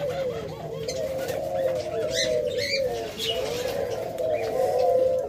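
Pet budgerigars and doves in cages at a bird sale, with doves cooing steadily and small birds chirping and calling throughout, a dense continuous chorus close by.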